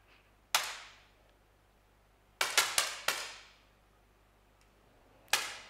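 A 10m air pistol in a men's shooting final at an ISSF World Cup event in Granada fires sharp, dry cracks: one shot, then a quick cluster of four, then another, each snapping cleanly in a quiet hall.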